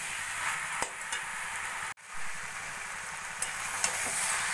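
Kohlrabi cooks down with spices in a pan for a vegetarian Bengali curry, giving a soft, even sizzle with occasional spoon taps and stirring clicks and one brief dropout midway.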